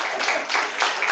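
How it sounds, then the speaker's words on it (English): A school audience claps to welcome the Wesley High School debaters to the front at an inter-secondary school debate, with steady, dense applause that swells in waves and continues throughout. "You can clap."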